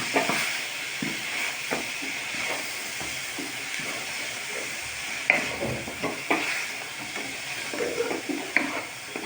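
Grated coconut frying in jaggery syrup for sesame laddu, a continuous soft hiss and bubbling with intermittent stirring scrapes and clicks, moderately close and with no talk.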